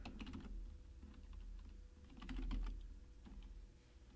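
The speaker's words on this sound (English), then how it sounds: "You can type in an address." Quick bursts of key presses on a computer keyboard as an address is typed into an online pre-flight planning map search, close up and fairly quiet, with pauses between the bursts and no talking.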